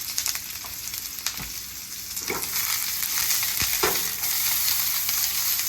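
Onions fry in a pan with a steady broadband sizzle and a few soft stirring knocks, close and unbroken, with no voices.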